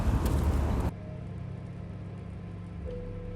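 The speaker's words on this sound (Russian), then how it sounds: "Если слышишь там гул машин каких-нибудь, просто я иду на улице" Steady low traffic rumble from passing cars, heard outdoors while walking along a street; a louder burst opens the clip, then a constant moderate hum continues with no talk.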